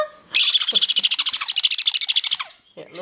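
Jenday conure chicks chirping, a loud rapid run of close, shrill repeated calls lasting about two seconds, then a brief pause and another short burst, with no talk.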